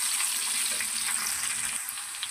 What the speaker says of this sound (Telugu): ఇది కూడా కలిపేసుకుని 1 నిమిషం ఫ్రై అవనిద్దాం.